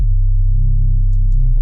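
An isolated sub bass layer from heavy, Doom-style experimental sound design: a deep, steady, sustained low tone that drones loudly throughout, with a couple of faint high blips near the end.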